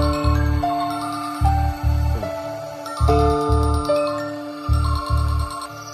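Synthetic phone ringtone from an outgoing call, a repeating electronic melody in bursts of tones with short gaps, fairly loud and alone.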